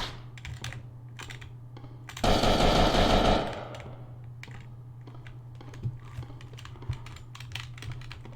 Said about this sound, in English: we're just firing our gun indoors